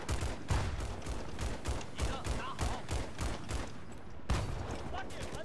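Gunfire in Battlefield 4, rapid rhythmic bursts of shots that thud steadily for several seconds under game noise and a player talking.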